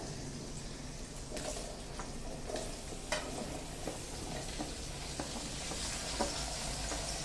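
Pumpkin pieces are stirred in a pan with turmeric over a soft, continuous sizzle, with repeated scraping spoon knocks at irregular intervals.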